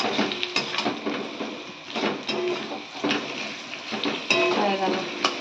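A utensil scrapes and stirs through whole spices frying in a pan of oil, with irregular knocks and clinks over a soft background sizzle.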